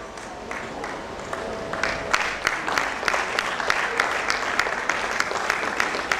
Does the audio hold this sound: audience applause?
yes